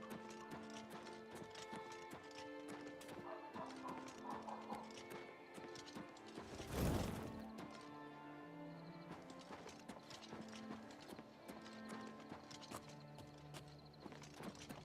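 Hooves clip-clop steadily at a gallop across a horse ride in the video game Oblivion Remaster, set over continuous game music, with one brief loud crash-like burst midway.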